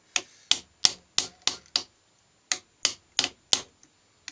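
A screwdriver prying apart an original Motobécane shock absorber, heard as a series of sharp metallic clicks in two quick bursts separated by a short pause, close and fairly loud, with no voices.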